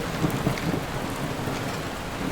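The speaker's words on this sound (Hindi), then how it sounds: "तभी जोर का तूफान आया और बारिश शुरू हो गई।" Steady heavy rain hisses over low, rumbling thunder, a dense continuous wash of sound with no voices.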